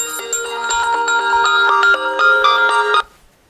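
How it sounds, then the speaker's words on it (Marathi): A bright electronic ringtone plays a quick repeating melody for about three seconds, loud and clear, then cuts off abruptly. "कोणाचा फोन आला"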